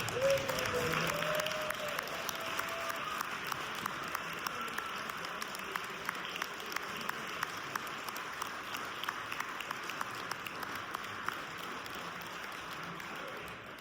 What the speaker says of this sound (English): please stand so we may recognize you with a round of applause one more time